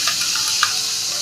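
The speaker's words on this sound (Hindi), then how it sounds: "2 से 3 मिनट तक अच्छे से मसालों को लो टू मीडियम फ्लेम पे भून लें" Spices and tomato roasting in a pan over low to medium flame, giving a loud, bright, continuous sizzle with faint stirring scrapes.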